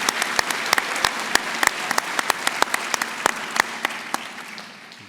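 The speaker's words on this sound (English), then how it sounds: "Let's give them a round of applause." An audience claps at a chamber of commerce annual luncheon in a steady round of applause, with crisp, close individual claps over a dense indoor clatter that tapers off at the end.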